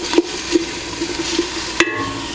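Minced garlic sizzles in a pan as it is tossed for marinara sauce, a steady soft frying hiss with light regular scrapes of stirring, close and alone.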